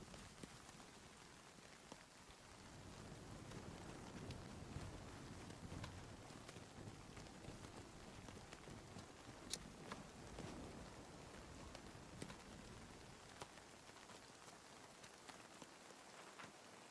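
Rain falls steadily in the survival video game Nightingale, a faint continuous patter of drops on surfaces with occasional sharper taps, with no voice over it.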